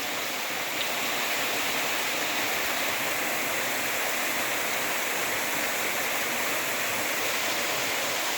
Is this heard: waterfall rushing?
yes